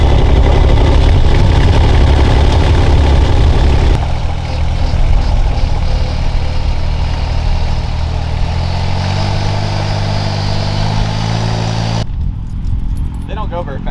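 A small piece of construction equipment rumbles loudly on a slow test ride at an equipment yard, the engine drone steady and close with shifting pitch, and metallic rattling throughout. It cuts to a quieter scene near the end.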